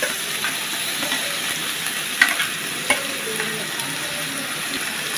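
Tomatoes and ginger paste fry in a pan with pumpkin, stirred now and then, giving a steady close sizzle with a couple of sharp scraping clicks and no talking.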